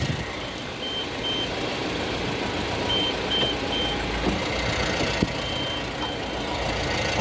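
A truck reverses into a loading gap, its engine rumbling steadily up close while faint, evenly spaced reversing beeps repeat above it.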